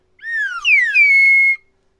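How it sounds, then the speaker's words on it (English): A slide whistle plays alone for about a second and a half, rising and then gliding down in clear, loud sweeping tones with a brief break between slides. "Should the slide whistle be a staple for the show"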